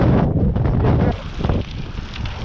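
Strong headwind buffets the microphone during a cross-country mountain bike ride, loud gusty roaring that eases partway through, with a voice faintly audible beneath.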